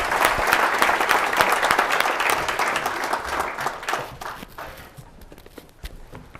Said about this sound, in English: So let's give them a nice round of applause as they come up.